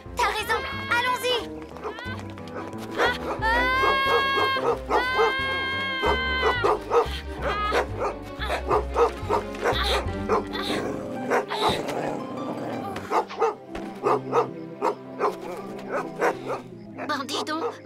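A cartoon dog barks, yips and whimpers in a run of close, lively calls, mixed with character voices talking over the scene.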